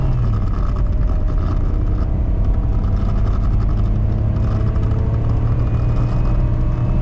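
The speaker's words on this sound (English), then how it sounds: "That was in 2nd gear and we hit 60. It sounds so bad." Hard acceleration of a cheap $300 manual car in second gear, a loud, steady, rough engine roar with rising drone heard from inside the cabin, continuous for the whole stretch with no talk.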